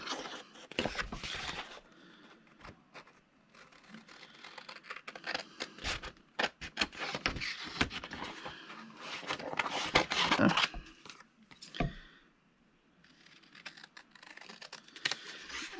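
Scissors cut around printed paper craft elements with quiet, irregular snips and paper rustles, close up, with no one speaking.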